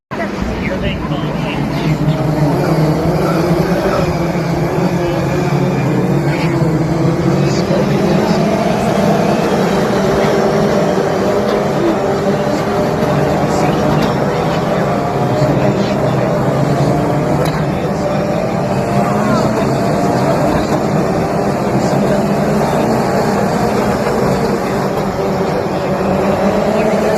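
Race cars passing at the Grand Prix of Arlington street race in Arlington, Texas, a loud continuous engine roar and crowd noise held throughout, with commentary voices talking over it.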